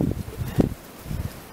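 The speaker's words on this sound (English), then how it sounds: "windy out." Gusty wind buffeting outdoors in the mountains of North Carolina on a February day, low rumbling bursts of air that swell and fade close to the microphone, with no talking.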